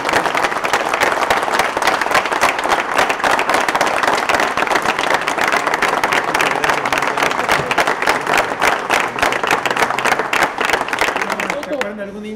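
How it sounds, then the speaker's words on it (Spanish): Sustained applause for Mari Carmen at a gathering, a long, loud, steady round of dense clapping from a sizable crowd lasting over ten seconds before a voice begins as it eases off. "Y un aplauso a Mari Carmen"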